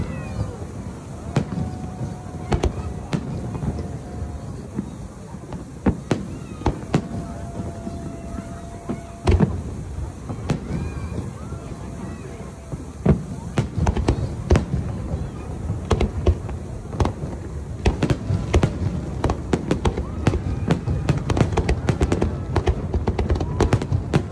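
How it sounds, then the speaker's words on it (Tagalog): Fireworks over Marina Bay Sands in Singapore, heard from the Esplanade area, crackle and pop in dense irregular bursts throughout, with outdoor crowd noise and voices in the background. "Saktong-sakto, may fireworks."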